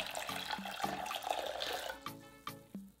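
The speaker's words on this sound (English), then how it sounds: "Add 2¼ cups of water." Water runs and splashes unevenly into a vessel, with a few sharp clinks and drips toward the end, fairly quiet and close.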